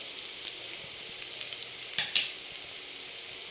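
Curry leaves with turmeric, chili powder, pepper and garam masala frying in a hot pan, giving a steady bright sizzle with a few soft stirring scrapes and light crackles, no talking.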